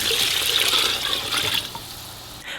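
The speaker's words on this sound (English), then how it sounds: "just goes into the pot along with some water" Water pours into a cooking pot holding daikon radish for beef pho broth, a steady close splashing rush that tapers off after about a second and a half.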